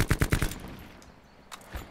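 A rapid burst of automatic gunfire rattles out in Call of Duty Black Ops 4, half a dozen close shots in quick succession, followed by a quieter tail and one or two distant shots.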